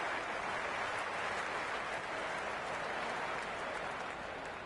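Steady roar of a cricket crowd cheering throughout an ODI match between India and Australia in the PS5 game Cricket 26, a dense, continuous wash of sound with no break.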